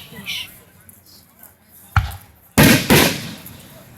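Fireworks going off close by at a nighttime display, a few sharp booming cracks with one especially loud blast near the end, mixed with background voices.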